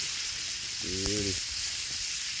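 Steaks frying in a pan during winter camping in a hot tent produce a soft, continuous sizzle and hiss, with a brief humming tone mid-way, no voices.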